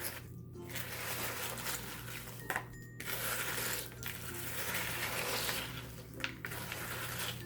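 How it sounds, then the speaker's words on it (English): Chocolate-coated cereal being mixed in a bowl, a steady near scraping and rustling stir with a few short clinks against the bowl, no talking. "So you want to keep mixing until every single cereal piece is coated in the chocolate."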